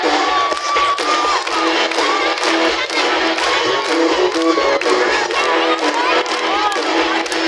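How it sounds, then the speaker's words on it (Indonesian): A loud, dense crowd shouts and cheers without pause at a community Quran donation gathering in Sukajadi village, with scattered claps mixed into the steady roar and voices rising above it. "Tepuk tangan dong."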